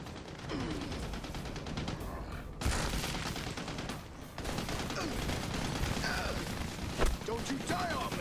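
Heavy machine gun fire in the video game Army of Two: The Devil's Cartel rattles almost continuously with a few booming impacts, while someone shouts over it.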